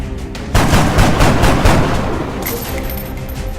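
Gunfire in the X-Com video game erupts suddenly as a loud, dense burst of rapid shots, then fades into a rumbling tail with a faint high whine.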